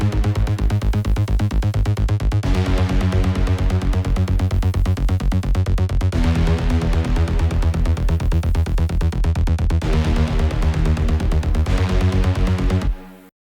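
A distorted bass processed with Fruity Enhancer and layered with a Euro bass pumps in a loud, driving rhythmic pattern for a bigroom track, with dense buzzing harmonics and chord changes every few seconds before stopping abruptly.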